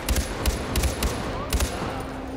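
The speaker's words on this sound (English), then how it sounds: "I need to learn not to fire my weapons so much" Short, rapid bursts of weapon fire in the shooter game Far Cry 4, loud and close, with several clustered shots that crack over a busy game soundscape.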